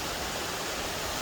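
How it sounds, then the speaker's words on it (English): A small waterfall beside a tree, heard as a steady, unbroken rush of falling water with no voices over it. "there's a little bit of a waterfall here"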